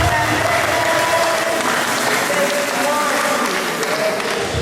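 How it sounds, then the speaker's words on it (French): A congregation at an evangelization campaign in Brussels applauds loudly and continuously, a dense crowd of clapping at close range with voices mixed in beneath it. "lèvons-nous et applaudissons les Seigneurs"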